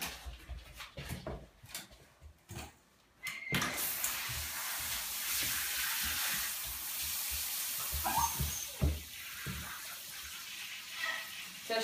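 Clattering handling noises give way to a steady, broad rushing of water pouring from a tap, continuous and fairly close, with occasional knocks.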